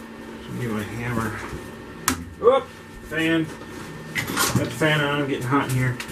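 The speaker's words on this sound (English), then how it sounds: "I always hit it when I have the welding helmet on. That's a cool sound." A couple of sharp, bright knocks on a welding helmet ring out briefly among voices and other tonal sounds in a knife-making workshop.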